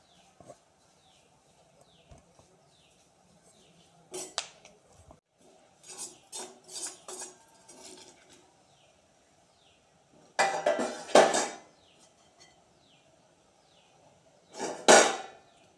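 Fried ginger being scooped out of a frying pan for a Kerala inji curry: scattered scraping clinks of a ladle against metal, with bursts of louder scraping near the middle and end over a soft background hiss.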